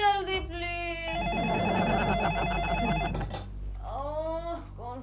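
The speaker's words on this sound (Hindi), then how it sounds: "ओह कौन फोन करता है सुबह सुबह?" A telephone rings with repeated electronic trills, loud and close, continuing for several seconds before stopping.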